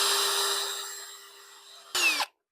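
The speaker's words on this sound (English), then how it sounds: "I'm gonna drill in the top of this, so it will be like this." A power drill bores a hole into a craft piece with a loud, steady whine that slowly eases off, then ends in a short, harsh burst as the bit breaks through.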